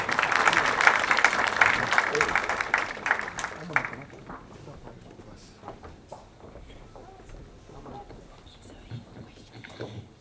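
Audience applause for an MP at a DR Congo independence day celebration, dense clapping loud for the first few seconds then fading into scattered claps and murmuring crowd noise.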